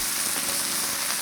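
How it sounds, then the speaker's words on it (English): Garlic sautés in olive oil in a pan alongside a ribeye dinner being cooked, a short, close, steady frying hiss. "Garlic in the center of the pan, a little bit of olive oil right on top of the garlic. Let that saute for just a few seconds."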